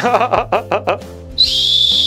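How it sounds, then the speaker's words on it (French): A whistle lollipop gives a series of short warbling bursts, then a steady, shrill high-pitched whistle that holds on loudly until the end. "Je crois que c'est une sucette sifflée en fait."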